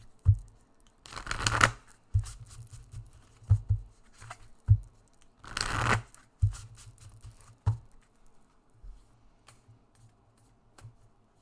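Crystal cards from a deck being handled: two bursts of riffling shuffle between soft taps and slides of cards on a table, close and fairly quiet.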